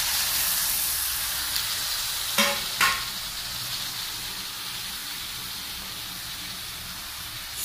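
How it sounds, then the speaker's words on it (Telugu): Liver and skin frying in a pan, a steady broad sizzle running throughout with a couple of brief sharper crackles early on, close and moderately loud. "liver and skin fry వేసేసుకున్నాము"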